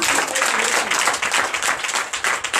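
A church congregation at a Sunday worship service applauds loudly and close, a thick, slightly uneven burst of many hands clapping with some cheering mixed in.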